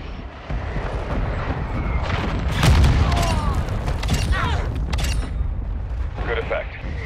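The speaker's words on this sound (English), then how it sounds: "Friendly cruise missile inbound." Cruise missile strike in Call of Duty: Modern Warfare II, a loud rolling explosion that swells and rumbles over a continuous battle din with scattered gunfire, with a sharp heavy peak midway and a radio voice heard briefly.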